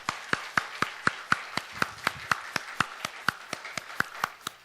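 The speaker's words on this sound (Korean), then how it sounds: "우리 큰 박수 하겠습니다." Church congregation applauding together at the close of a Korean service, a steady run of about twenty sharp, evenly spaced claps heard fairly close, with no talking over them.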